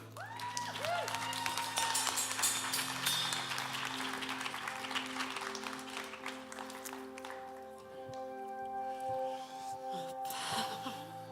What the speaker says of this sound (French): Vous allez pouvoir applaudir José